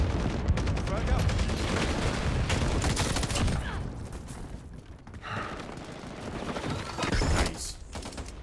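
Rapid bursts of automatic gunfire from a burst-fire weapon in the video game Call of Duty: Modern Warfare, loud and dense through the whole stretch, with shots crackling and booming close by and brief lulls before a final flurry.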